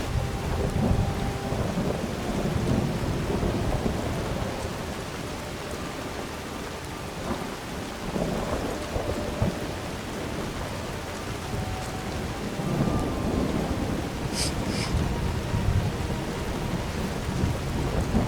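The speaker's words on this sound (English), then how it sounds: "Let's get out of the rain first." Steady heavy rain pours throughout with low rolling rumbles of thunder in the video game Skyrim, a dense wet wash of sound and no talking.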